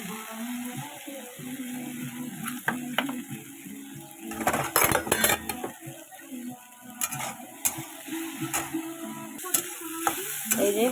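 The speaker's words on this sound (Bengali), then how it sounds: "এই যে পেঁয়াজ দিয়ে দিচ্ছি আর কটা লঙ্কা" Onions and chillies sizzle in a hot pan in a home kitchen, a steady frying hiss broken by sharp scrapes and clinks of a spatula stirring, with no talk.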